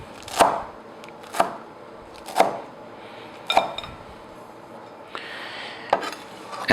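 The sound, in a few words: chopping fresh cilantro with a knife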